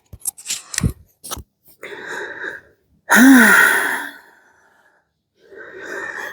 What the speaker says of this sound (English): My breath picked up a little bit.